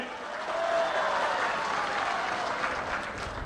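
A crowd at Chief Minister Chandrababu Naidu's speech at a village event in Datti bursts into steady applause, loud and sustained for a few seconds before tapering slightly.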